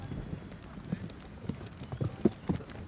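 A horse gallops during an eventing warm-up, its hoofbeats thudding in an irregular rhythm at moderate distance, with faint voices in the background.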